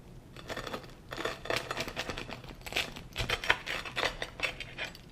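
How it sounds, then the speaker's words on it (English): A knife saws through a crispy, low-fat homemade pan pizza crust, giving a run of close, dry crunching and crackling bursts that rise and fall over about five seconds, with no talking. "I'm going to cut this crust. Just listen to this crust."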